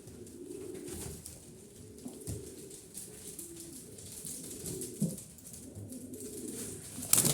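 Pigeons, white birds kept in a loft, give low, soft, rolling coos that repeat steadily through a quiet background, with a few sharper rustles and knocks.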